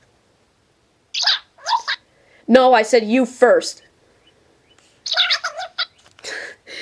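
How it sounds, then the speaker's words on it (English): A parrot squawks and chirps in short bright bursts, with a person talking back and forth with the bird between and over its calls, close and fairly loud. "Okay, so I'm arguing with the parrot here."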